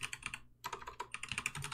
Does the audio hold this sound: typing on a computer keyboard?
yes